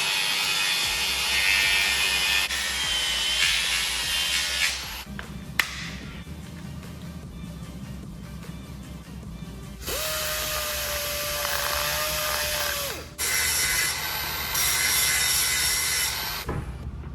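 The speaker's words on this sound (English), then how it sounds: "go and cut all of this excess plastic" A power cutting tool trims excess plastic from a car door panel, whining loudly in long sustained passes. The passes are separated by brief pauses and quieter grinding, all close to the listener.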